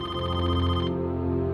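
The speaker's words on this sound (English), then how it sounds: "the phone started to ring" A telephone rings with a steady, continuous electronic trill that stays loud and even for the whole short stretch, alone with no voices.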